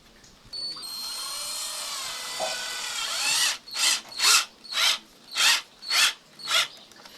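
A power drill bores a hole in a crossbow part, first a long steady whine, then six rhythmic rising-and-falling bursts as the bit is pushed in and eased off, close and loud.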